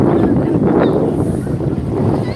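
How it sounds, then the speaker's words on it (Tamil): Wind blowing on the seashore at Tiruchendur: a loud, close, broadband rush of gusting air buffeting the microphone, steady and unbroken throughout, no talking. "காற்று வருது"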